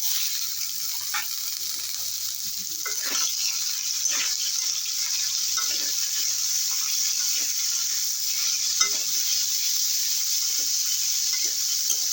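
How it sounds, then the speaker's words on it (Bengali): Taro pieces fry in a pan for a rustic village dish, producing a steady, close sizzle with occasional soft stirring clicks and no voices. "কচুগুলো খুব বেশি লাল করে ভাজবো না"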